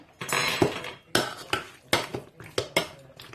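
Several sharp clanks and clatters of metal pots and utensils as chicken is put into a small cooking pot, coming in uneven bursts close by, with no talking.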